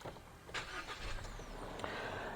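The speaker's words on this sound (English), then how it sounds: "let's switch on the car quickly" A GAC Emkoo SUV starting up after a long road trip, a brief cranking whir catching into a low engine hum, heard from inside the cabin, fairly quiet and close with no speech.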